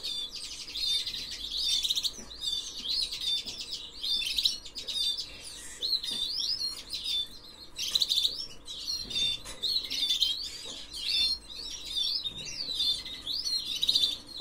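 A small grey and white bird held for ringing chirps again and again, giving rapid, high, squeaky calls at close range that run steadily for the whole stretch with no talking.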